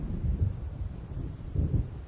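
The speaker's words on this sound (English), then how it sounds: "It seems there's a storm coming." An approaching storm in a PS4 video game, with low rumbling wind and distant thunder swelling in two soft pulses, steady and fairly quiet, with no talk.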